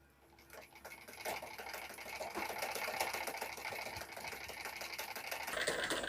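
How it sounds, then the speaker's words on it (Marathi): Sewing machine running a steady, slow line of stitching along a blouse neckline, a continuous mechanical whirr with a fine ticking rhythm that builds slightly in loudness, no voices. "आता आपण इथून एकसारखी शिलाई देऊन घेऊयात."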